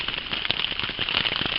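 Steady patter of rain hissing and crackling on a surface, dense and continuous, fairly loud with no voices.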